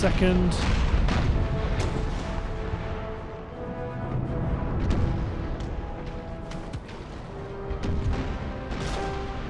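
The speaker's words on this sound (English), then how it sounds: "Fire off that broadside just to stop it from being a thing you have to worry about" Ship cannons fire a broadside in an Empire: Total War naval battle, a dense run of deep booms and rumbling blasts over continuous battle noise and music.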